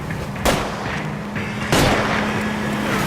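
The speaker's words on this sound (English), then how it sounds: "I'll try to shoot out his tires." Two sharp gunshots aimed at a fleeing car's tires during a chase in L.A. Noire, each a loud broadband crack over a steady engine drone.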